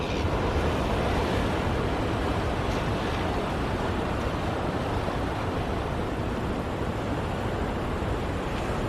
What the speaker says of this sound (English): Redgate beach.